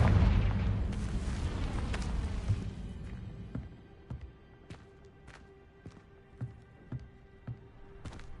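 Confringo blasting spell going off in the Hogwarts Legacy video game: a loud, rumbling explosion that swells, then fades into a lingering tail dotted with sharp clicks and small impacts.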